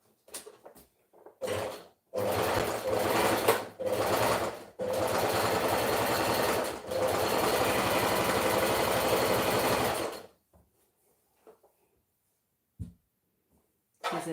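A sewing machine stitches in several close, loud bursts of rapid mechanical running, the longest lasting a few seconds, separated by short pauses and followed by quiet handling noises.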